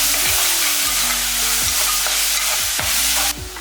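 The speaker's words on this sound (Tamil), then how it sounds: "இந்த அளவுக்கு நல்லா வதக்கிடணும்." Tomatoes, salt, a pinch of turmeric and coriander leaves sizzle in oil for a mutton intestine gravy, a steady loud frying hiss broken by regular scraping stirs of a spoon against the pan, roughly every half second to second.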